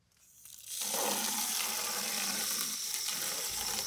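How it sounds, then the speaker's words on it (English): Running water rinses a plastic microgreens growing tray in a sink, a steady broadband splash and spray that rises quickly and continues unbroken for several seconds, close and fairly loud. "I'm just going to toss everything in this bucket and rinse off the tray."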